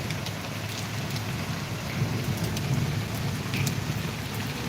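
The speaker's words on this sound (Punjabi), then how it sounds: "ਮੀਂਹ ਆ ਰਿਹਾ ਤੇ ਪੰਤਾਲੇ ਚੱਲ ਰਿਹਾ" A downpour of rain, with water running through a drainpipe, makes a dense, steady, close rushing wash without pause. No voices are heard.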